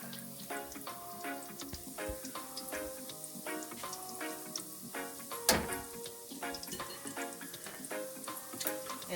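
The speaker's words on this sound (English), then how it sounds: "I'm just going to let the butter melt and the garlic soften up a little bit" Butter and garlic sizzling in a pan, a steady, fine crackle and hiss with bursts of regular ticking pops and one louder clack midway, close and quiet, with no talk.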